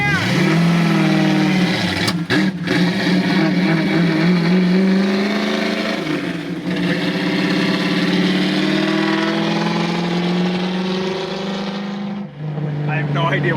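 A 1965 Ford Mustang engine runs loud and close with its exhaust fitted, a strong rumble that climbs and falls through revs with a couple of sharp breaks, and people speak over it.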